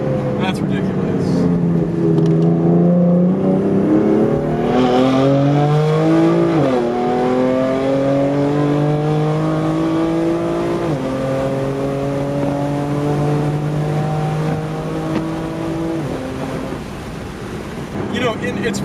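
A BMW M4 engine with catless downpipes drones loud and close, its pitch jumping up and sliding at each downshift from third to second to first, with blips of revving and a rush of road and wind noise.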